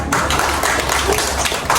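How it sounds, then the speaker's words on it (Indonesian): Third-grade schoolchildren in a primary classroom clap for a classmate, a dense, loud, sustained patter of many small hands. "Beri tepuk tangan dulu untuk Surya anak-anak"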